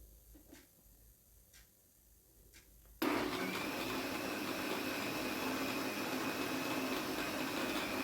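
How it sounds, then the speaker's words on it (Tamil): A mixer grinder jar whirs to life after a few faint ticks and grinds rose milk ingredients with sugar in a loud, steady, unbroken roar to the end. "இப்போ வாங்க ஜூஸரை மிக்சி ஜாரில் வச்சு நல்லா கிரைண்ட் பண்ண போகிறோம்"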